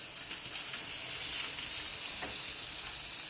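Broccoli rabe stems and breakfast sausage sizzle together in a hot pan, a steady, close, even frying hiss with faint crackles that holds without pause and with no talking.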